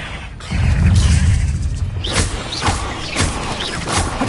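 In the video game Hogwarts Legacy, the Incendio fire spell goes off with a deep rumbling whoosh, followed by a series of crackling bursts and thuds from the game's combat.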